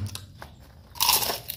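A single loud crunchy bite into crispy fried oyster mushroom seasoned with balado spice, close up, preceded by faint mouth sounds and followed by a short burst of crackling crunch.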